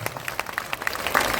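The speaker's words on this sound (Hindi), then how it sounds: "ताली, जोर से ताली बजाइए।" Scattered hand claps from a crowd at a political party founding convention in Bihar, a brief burst of applause that swells slightly toward the end.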